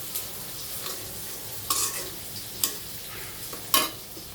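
Spices and ginger-garlic paste fry in a pan on a home stove, a soft steady sizzle broken by a few sharp scraping stirs, close and fairly quiet.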